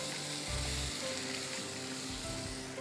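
Kidney beans frying in a tomato and onion masala, a steady close sizzle with a few thicker stirring scrapes and bubbling pops, continuous throughout with no voices.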